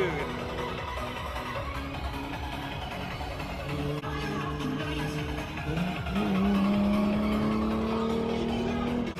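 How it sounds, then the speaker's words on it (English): A Hyundai Genesis 3.8 with an ISR race exhaust revs and drives, its engine note climbing loudly toward the end, mixed with tire noise and people talking over it. "I just love the sound of this exhaust."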